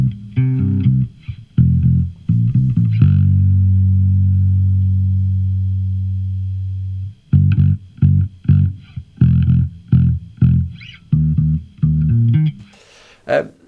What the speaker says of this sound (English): this one, Classic Comp, sounds pretty nice for the bass